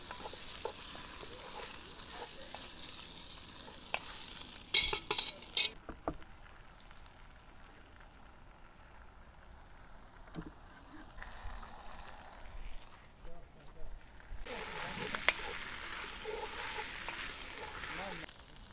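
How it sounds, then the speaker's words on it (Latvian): Vegetables for a picnic soup fry in a pot over a campfire outdoors, with faint sizzling and patter, occasional stirring clatters and scrapes, and a louder hissing burst toward the end. "Nemaisam visu laiku, ļaujam, lai dārziņi piecapās nedaudz, lai kļūst brūni vietām"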